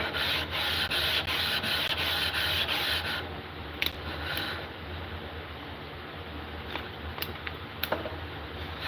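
A blade is drawn across a 1000-grit whetstone in steady, continuous rubbing strokes, close and moderately loud. The scraping grows lighter partway through, with a few sharp clicks near the end.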